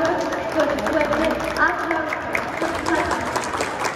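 An audience at an inclusion festival claps in a broad wash of applause, with a voice talking over it the whole time.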